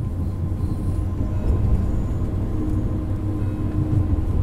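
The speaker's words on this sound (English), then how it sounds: "This particular train is a third-generation intercity express built by Siemens in Germany for international operations." A Siemens third-generation ICE intercity express train in Train Simulator World 2 runs along the line with a steady low rumble and rolling wheel noise, loud and continuous throughout without voices.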